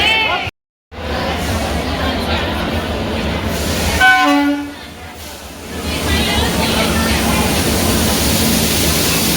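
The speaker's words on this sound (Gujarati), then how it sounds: "અમદાવાદ રેલવે સ્ટેશનથી યોગા એક્સપ્રેસમાં સૌ દ્વારકા ગુગળી બ્રાહ્મણ યજ્ઞવાળા પ્રસ્થાન કરી રહ્યા છે।" The Yoga Express at Ahmedabad railway station rumbles steadily along the platform, a horn-like tonal blast sounding midway over the continuous rolling noise, with people's voices in the background.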